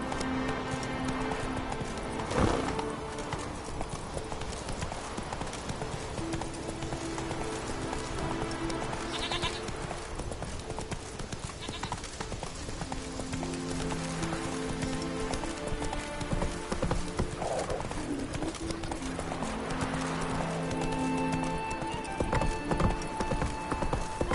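Hooves of Roach, the horse in The Witcher 3, clip-clop in a steady trotting rhythm throughout, with occasional whinnies and faint game ambience and music beneath.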